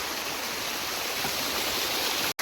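Irrigation water rushes steadily through a farm field, a dense, constant close roar of flowing water that holds at one level for a couple of seconds, with no voices.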